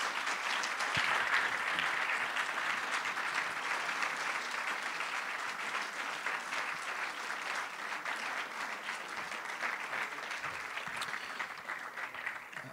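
Audience at a French debate club event applauding steadily and evenly for several seconds, a dense wash of clapping at moderate level with no voices over it.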